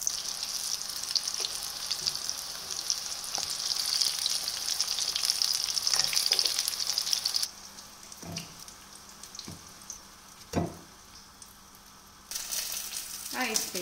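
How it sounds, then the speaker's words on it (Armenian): Eggplant fries in oil on low heat, a close continuous sizzle with occasional scrapes and knocks of stirring; the hiss drops away partway, then returns. "հիմա սիրելիներս շարունակում եմ տապակել ամբողջը"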